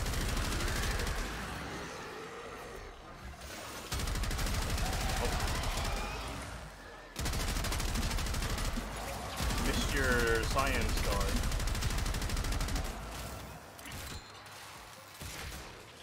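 Gunfire in a video game runs almost nonstop as dense, rattling bursts that fill the sound. It breaks off briefly twice, and a voice talks faintly underneath.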